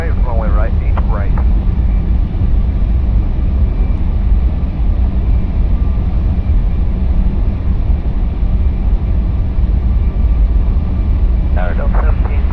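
A steady, loud roar of Boeing 747 jet engines during takeoff in the Airline Commander flight game, a constant broadband rumble, with brief radio voices near the start and end.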